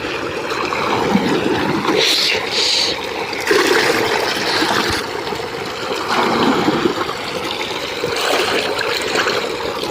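Irrigation water flows into a coriander field in a loud, steady rushing wash with gurgling surges, heard close and alone.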